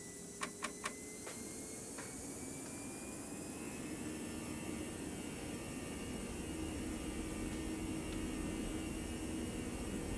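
Simulated Airbus jet engines roar steadily through a takeoff roll in a flight simulator, a continuous broad whine and rumble with a few sharp clicks at the start, moderately loud and without speech.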